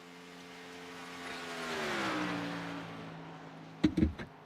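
A race car in a video game lapping the Texas track, its engine note rising and then falling as it passes at moderate distance, followed by a few sharp clattering knocks near the end with no talk.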